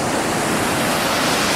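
A river running high after rain rushes loudly and steadily below a bridge, a dense, unbroken roar of water filling the whole stretch with no voices.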